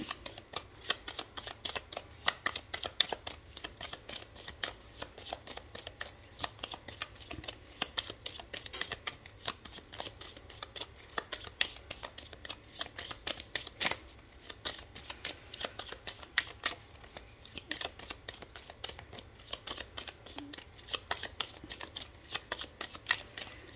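Cards from a Gypsy oracle deck shuffled steadily by hand, a dense run of fast, close riffling flutters continuing without pause and with no talk.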